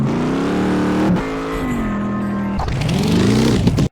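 Car engine in a mobile racing game revving steadily and loudly, with pitch swells and a brief dip as gears shift, running alone without talk.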